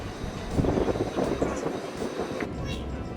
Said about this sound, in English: The other train coming towards us.